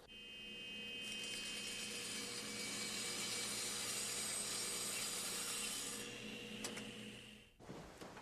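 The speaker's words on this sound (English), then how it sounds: "Now when I run it through the saw," Table saw ripping a wooden board for a staircase build: a steady, close, whining cut lasting about six seconds, then the blade spinning down and a clunk of wood.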